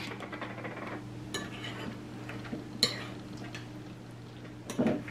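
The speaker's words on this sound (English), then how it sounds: "Okay, so now I'm going to spoon the berries up on top of this." A spoon clinks and taps against a bowl while glazed strawberries are spooned onto a pizza crust for a strawberry pizza, with a few sharp, close metallic knocks over quiet room hum.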